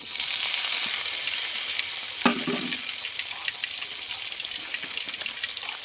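Tomatoes frying in a village-style meat curry of chicken or beef, a loud, steady sizzle close by with a brief stir or splash partway through.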